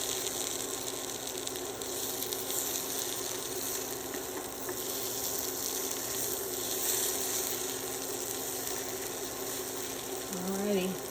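Potatoes fry in a pan with a steady close sizzle and crackle that runs the whole time, with faint scraping and stirring sounds near the end.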